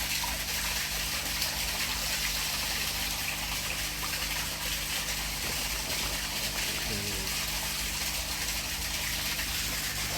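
A fine mesh net sweeping through koi pond water among young tosai and fry, heard as a continuous loud rush and splash of moving water with a faint mechanical hum beneath.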